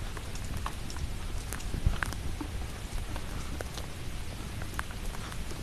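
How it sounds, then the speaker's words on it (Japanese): Heavy rain pours steadily over a hillside park at night, a dense, even hiss of drops spattering on surfaces with scattered louder taps, continuous and close throughout with no voices. "雨がすごいですね。"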